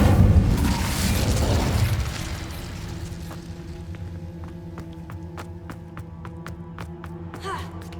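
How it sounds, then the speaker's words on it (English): An Incendio fire spell cast in Hogwarts Legacy. A loud whooshing burst of flame comes first, then fades into a low crackle with rhythmic ticking and mechanical sounds. "Incendio!"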